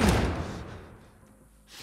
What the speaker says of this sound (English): Barricade the doors.